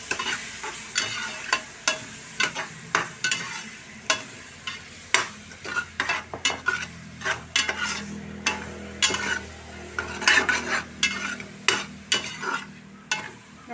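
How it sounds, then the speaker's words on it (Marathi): Two finely chopped tomatoes get stirred into onions in a pressure cooker for pav bhaji: a regular series of spoon scrapes and taps against the metal over a soft sizzle, close and moderately loud, with nobody talking. "त्यामध्ये हे मी दोन बारीक कापलेले टोमॅटो घालणार आहे"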